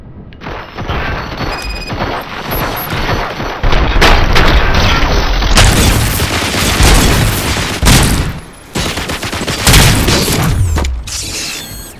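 Gunfire and mechanical clatter in the video game RoboCop: Rogue City, loud bursts of shots and heavy booms repeating across the stretch, with metallic ratcheting between volleys.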